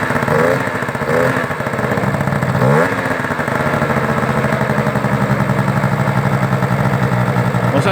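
A Peugeot 103 Fox moped engine idles steadily right after starting on a cold morning, its close, continuous two-stroke buzz holding an even rhythm after a brief rev near the start.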